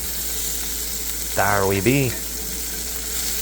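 Salisbury steak patties sizzle steadily in a hot pan, a loud continuous hiss with someone briefly speaking over it.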